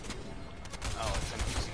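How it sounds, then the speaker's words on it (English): A brief, rapid burst of Fortnite gunfire rattles close by, crackling shots running together over game ambience with a voice speaking underneath. "Someone's shooting at me."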